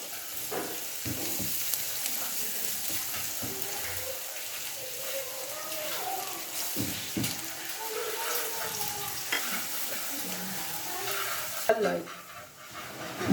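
Crushed garlic frying to golden brown in hot oil for crispy chana masala, a steady crackling sizzle with stirring scrapes throughout, close and moderately loud, ending in a brief louder clatter.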